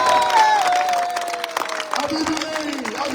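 A political rally crowd at a PTI jalsa in Lahore claps and cheers, a dense wash of applause with shouts and a voice over it, loud and close.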